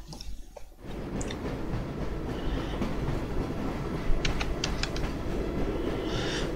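Train with three wagons in Half-Life: Source, a steady loud rolling rumble of rail cars with faint metallic clicks and squeaks riding on top.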